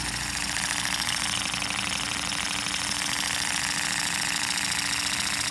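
Model steam engine running on compressed air, a continuous rapid mechanical chuffing and whirring with a steady hum, compressor running in the background, fairly faint and even throughout.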